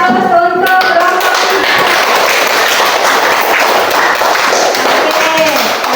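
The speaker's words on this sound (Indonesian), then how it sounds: "berikan aplaus untuk kelompok" Audience applause for group 4 at a classroom teaching session, a dense, loud burst of clapping that follows a brief voice and continues steadily for several seconds.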